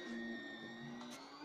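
A HIC Tech 3D printer, a $420 machine, runs a honeycomb-infill print, giving off faint, steady motor whirring with tones that shift pitch as the head moves.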